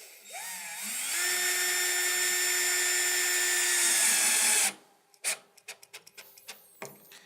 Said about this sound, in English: you can take your cordless drill